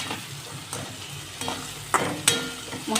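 Green chillies sizzle softly in a pan for egg bhurji, with a steady frying hiss broken by several sharp scrapes and clinks of stirring.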